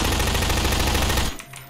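Rapid automatic gunfire in Garry's Mod during a Five Nights at Freddy's-themed battle: a dense, loud burst of quick shots that rattles for over a second, then cuts off abruptly.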